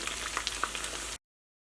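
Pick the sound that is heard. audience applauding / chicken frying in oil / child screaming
chicken frying in oil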